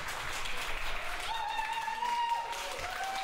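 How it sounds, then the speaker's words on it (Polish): Wedding guests applaud a bride and groom's first dance, a soft wash of clapping that runs on throughout, with a voice or music tone over it partway. "Gromkie brawa."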